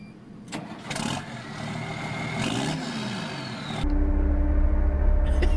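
A large 1500-horsepower tractor in Farming Simulator 19 cranks with a few whirring starter pulses, then catches and settles into a loud, deep, steady idling rumble.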